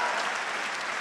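Dense applause from an audience at a kavi sammelan poetry gathering in Kota, a steady even wash of clapping filling the whole moment with no voices on top.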